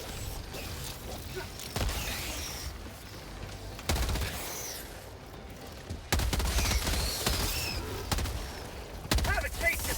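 Heavy machine gun fire in the video game Helldivers 2, a series of dense, loud automatic bursts separated by short pauses, layered over game ambience with birdlike chirps and a voice talking at times.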